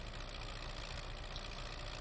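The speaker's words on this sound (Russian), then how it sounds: "давайте поставим трактор на ручной газ, чтобы я постоянно не жал педаль" A tractor engine in Farming Simulator 2015 runs on hand throttle, a steady, even mechanical drone held at a constant pitch throughout with no voices.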